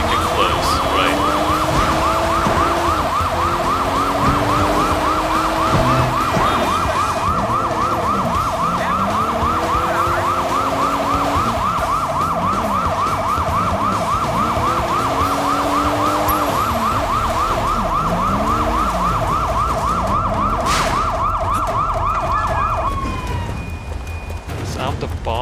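A police car siren in the video game Sleeping Dogs wails in a loud, fast repeating yelp for about twenty seconds, with car engine noise underneath and a voice talking over it before it cuts off.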